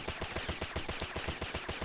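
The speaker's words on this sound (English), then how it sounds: "I'm going to do a recoil test with the PP19 mod and P90TR here" Rapid sustained burst from a PP-19 submachine gun fired in a video game recoil test, steady evenly spaced shots close and loud for the whole stretch, no voices.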